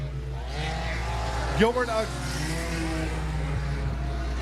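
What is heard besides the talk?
sport compact race cars racing on raceway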